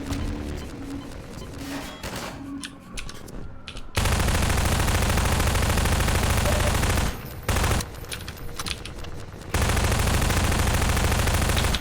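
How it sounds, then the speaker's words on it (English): Strider in Half-Life 2 firing on the player, loud sustained bursts of rapid heavy gunfire that drop out for a moment and then resume, with quieter combat noise before the first burst. "the Strider is shooting me"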